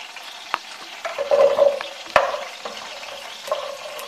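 Small sauce onions hit a pan of hot olive oil, butter and thyme and sizzle steadily and close, with a few utensil clicks and stirring scrapes over the frying and no voices.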